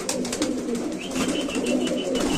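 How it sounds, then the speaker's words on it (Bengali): Domestic pigeons for sale coo repeatedly in a loft, a close, low, rolling murmur of overlapping coos with a few faint chirps, and no talking. "কবুতর ডাকটা একটু দেখেন"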